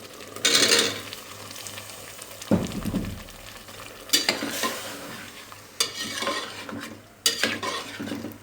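Potatoes fry in spice masala for dhaba-style aloo gobi, with a steady sizzle and repeated loud bursts of spatula scraping and stirring close by, no talk.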